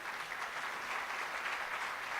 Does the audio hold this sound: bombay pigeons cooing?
no